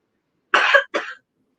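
A person coughs twice in quick succession, close and loud, with silence before and after.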